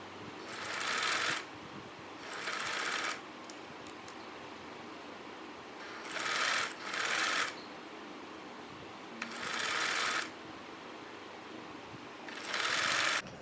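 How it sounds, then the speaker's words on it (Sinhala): A sewing machine stitches along the ironed sleeve hem of a wrap dress in five separate bursts of fast whirring, each a second or so long, with quiet gaps between them. "මේ වගේ අයන් කරපු වාටිය දිගේ මම මෙහුමක් ගහ ගන්නවා."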